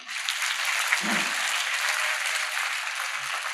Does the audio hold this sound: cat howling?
no